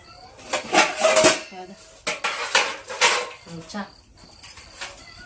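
Plates and cutlery clatter close by as a plate is handled, with repeated bursts of ceramic clinks and scrapes and a voice speaking briefly among them.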